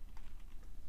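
Quick typing on a computer keyboard, a short cluster of light key clicks, close and fairly quiet, with no voices.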